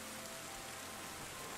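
Steady, even rainfall hisses without a break in the Terra Nil video game, a soft, continuous wash with no other sounds.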